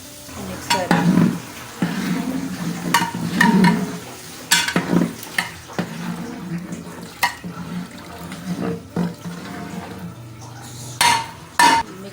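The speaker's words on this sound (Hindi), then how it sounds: "मिक्स कर दिए हैं राइस हमने, तो हम ढक देंगे।" A spoon works rice into potatoes and spices in a pot for aloo tehri, knocking and scraping against the metal in repeated, irregular bursts over a low sizzle, with a few quieter pauses between the strokes.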